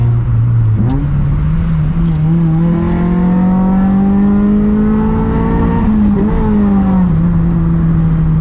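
A street-tuned Honda Prelude engine pulls hard under full throttle, a loud, close, rising drone with one gear change partway through and the revs climbing again afterward.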